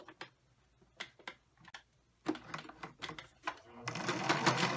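A sewing machine stitches the side seam of a cotton pillowcase dress, starting with scattered single clicks and short stitching bursts, then a steady fast whirring run at close range.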